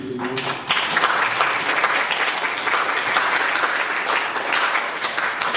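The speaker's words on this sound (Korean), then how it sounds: "그래서 찬양팀께 이렇게 박수를 한번 보내드리고" A church congregation applauds the worship team, a dense, steady roomful of clapping that rises sharply after a brief spoken phrase and continues loud to the end.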